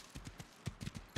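Horse hooves clip-clop faintly in an uneven rhythm in the video game Rust, a handful of light knocks in quick succession.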